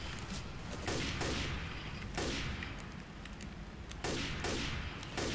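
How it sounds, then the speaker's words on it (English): Repeated bursts of gunfire in Left 4 Dead 2 come in clustered volleys roughly every one to two seconds, loud and dense over a constant low rumble, with no voices. "I'm surprised that all this shooting isn't alerted any more horde."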